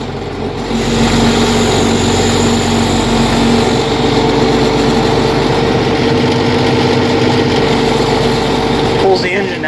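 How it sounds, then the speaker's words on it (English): An International Harvester 1586 tractor idles after a cold start following two months of sitting, a steady, loud, rumbling diesel throb with a constant drone throughout. "Just a nice little cold start to the 1586."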